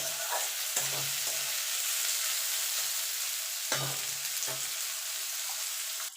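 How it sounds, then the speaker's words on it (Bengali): Onion fries in oil in a pan, giving a steady close sizzle broken by a few spatula stirs and scrapes, with the hiss cutting off at the very end and no one speaking. "দিয়ে পেঁয়াজটা একটু ভাজা ভাজা করে নেব"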